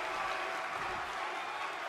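Crowd cheering and applauding in the WWE 2K23 wrestling game, a steady, fairly quiet wash of arena noise with no clear peaks.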